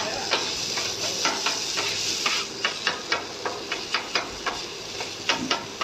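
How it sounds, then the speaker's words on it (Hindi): Chicken for a sandwich being stirred and mixed, with a series of sharp repeated clacks and scrapes of the utensil against the bowl over a soft sizzling hiss, close and fairly quiet. "अभी चिकन को मिक्स करेंगे, ऐसे मिक्स करना है।"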